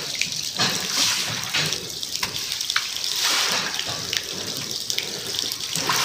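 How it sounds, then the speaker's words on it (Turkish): Warm well water gushes from a hose onto the floor of a cow barn, washing beneath the cows in a steady, close rush with brief splashing surges and no voices. "Böyle kuyumuzu suyunla yıkayacağız."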